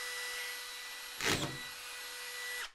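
A Dewalt 20V Max drywall screwgun in constant run mode gives a steady, close motor whine for under three seconds, with a brief louder burst partway through, then winds down and stops.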